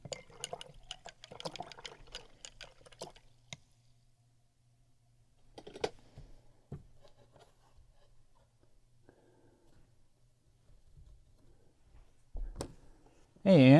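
A paintbrush is swished and rinsed in a water container, with soft splashes and clinks early on, then quieter taps and occasional sounds over a low hum, ending with a louder burst.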